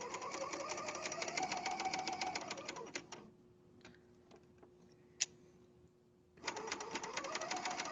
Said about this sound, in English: Back to the serger